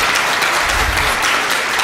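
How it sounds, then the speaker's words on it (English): An audience claps together at a Chicago Public Schools All-City Arts Program event, giving a brief, dense burst of applause that stays steady and fairly loud throughout, with no voices over it. "yeah, you can clap for that."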